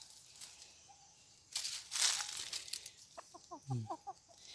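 Chicken clucks come in a quick run of short notes near the end, following a burst of rustling noise at a rural spot in Thailand or Laos.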